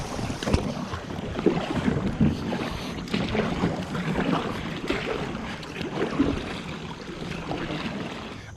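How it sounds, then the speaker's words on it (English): A Native Watercraft Falcon 11 kayak is paddled upriver, with soft water swishes and splashes from the strokes under steady wind buffeting the microphone. "Let's paddle upriver a little bit."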